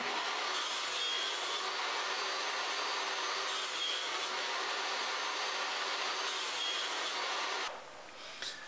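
Thin wood pieces cut for dotted marquetry give a continuous, loud rasping and whirring buzz that runs for about eight seconds before dropping off near the end.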